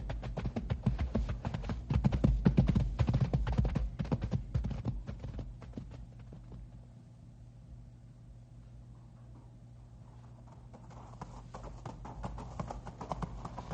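Horses walk along a rocky, loose-stone trail, their hooves striking in a steady clip-clop that is loud and close at first, then fades to a softer, more distant clatter.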